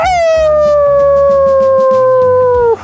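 A dog howls loudly and close in a long, slowly falling tone, with other dogs' howls layered underneath, at a farm.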